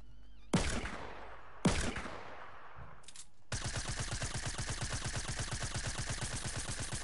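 Gunfire in a video game: two single heavy shots with echoing decay, then a brief burst and a sustained rapid automatic volley, sharp and fairly close.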